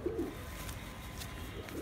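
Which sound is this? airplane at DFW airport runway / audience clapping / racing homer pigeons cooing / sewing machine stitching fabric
racing homer pigeons cooing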